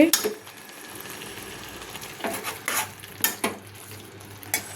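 A spoon stirs fried cauliflower and boiled potatoes together in a hot metal pan, making a series of scraping, clattering strokes that come in uneven bursts over a faint background sizzle, with no talking.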